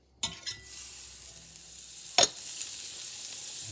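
Butter sizzling in a skillet on medium heat, a steady faint hiss broken by a few scraping clicks near the start and one sharp crackle partway through.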